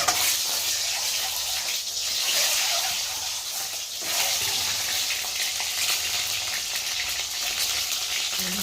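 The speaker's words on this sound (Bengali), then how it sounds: "এবার দেবো এই যে ডিমগুলো দিয়ে ভালো করে ভেজে নেব।" Eggs frying in hot oil in a wok, seasoned with a little salt: a steady, close crackling sizzle that swells and eases in waves, with no voices.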